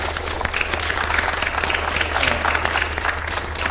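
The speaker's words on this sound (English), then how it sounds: "Give them a round of applause." Steady audience applause at a community forum on Gaza, a dense sustained wash of many hands clapping together under a low background hum, loud and even throughout.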